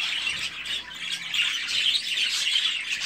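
Japanese society finch chicks in an aviary chirp rapidly and continuously, a busy cluster of high, thin peeps with no talking over them.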